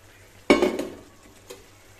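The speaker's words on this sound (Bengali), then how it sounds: "এবার এতে আমি চিংড়ি মাছগুলো দিয়ে দিচ্ছি।" Prawns dropped into a pot of bubbling curry give a sudden splashy sizzle that fades over a second, followed by a faint clink of utensil.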